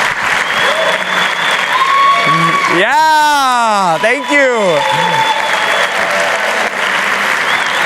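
Loud, continuous applause from an audience greeting competitors at an entrepreneurship pitch event, with a voice speaking briefly over the clapping in the middle before it carries on steadily to the end.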